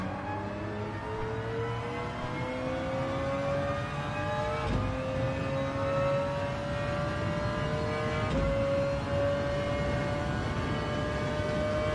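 Racing car engines at Monza in Gran Turismo 7, a steady high-pitched engine whine climbing in pitch through the gears, with two brief gearshift breaks, loud and continuous with no talking.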